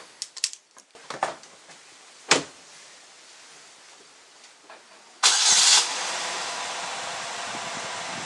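A Chevrolet Malibu with a 2.4L Ecotec engine, fresh from a spark plug change, cranks briefly and catches, then settles into a steady close idle after a few clicks and a door thump.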